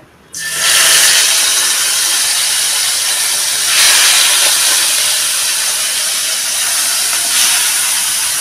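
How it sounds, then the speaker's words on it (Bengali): Raw prawns (chingri), rubbed with salt and turmeric and washed, hit hot oil with a sudden loud hiss, then settle into a steady, close frying sizzle that swells briefly a couple of times. "চিংড়ি মাছটা এই যে নুন হলুদ মাখিয়ে ধুয়ে দিয়েছিলাম, আমি ভেজে নেব"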